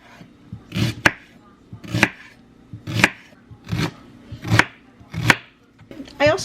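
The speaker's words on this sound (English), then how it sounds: "I'm gonna get this onion cut" A knife chops an onion on a cutting board in steady, sharp strokes, about seven distinct cuts roughly one per second, close and clear.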